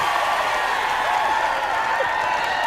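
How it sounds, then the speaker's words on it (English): Studio audience applause and cheering on a live talk show as a guest is called down, a steady, dense wash of clapping and crowd noise filling the whole stretch without pause. "The crowd's going wild, Geoff."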